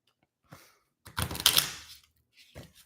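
Oracle cards being shuffled by hand, a few short papery riffles and taps with a longer burst of shuffling in the middle, close and fairly quiet with pauses between.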